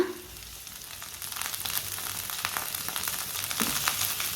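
Finely chopped onion, green chili and fresh coriander fry in a hot pan, giving a steady close sizzle that grows a little louder partway through, with no talking.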